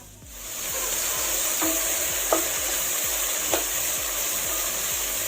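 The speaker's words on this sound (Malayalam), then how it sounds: "എന്നിട്ട് ഒരല്പം ഉപ്പ് കൂടെ ഇട്ട് കൊടുത്തു കഴിഞ്ഞാൽ സവാള വേഗം ബ്രൗൺ കളർ ആവും." Sliced onions fry with salt in a pan for an Anglo-Indian pork vindaloo. They give a steady, moderate sizzle, with a few soft clinks of stirring and no talking.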